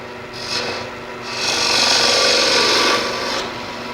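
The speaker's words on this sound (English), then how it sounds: "So I'm just going to use a little pointed scraper." A small pointed scraper cuts a cone into a spinning wooden workpiece on a lathe, giving a bright, steady rasping scrape that swells louder and longer in the middle before easing off, close by with no talk.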